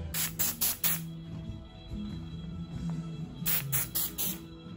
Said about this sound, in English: I'm probably gonna use the rest of this to just spray the crap out of my house.